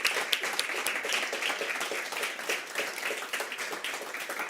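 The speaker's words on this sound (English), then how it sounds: "Please join me in giving them a huge applause for their exceptional work." An audience applauds the finalists of a quantum science award presentation, a dense, continuous wash of many hands clapping, fairly distant and steady throughout.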